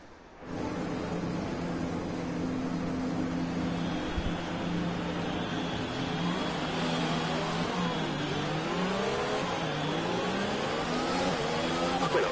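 An F1 race car engine in the F1 2020 video game revs hard at the race start: a loud, steady, buzzing drone that holds through the whole stretch, its pitch sweeping up and down with each gear change.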